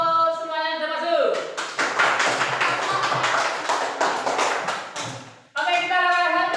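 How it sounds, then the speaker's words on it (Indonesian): A classroom group claps together in a dense, sustained round of applause lasting several seconds, bracketed by a teacher's voice speaking just before and after. "Tepuk tangan untuk semuanya yang sudah masuk."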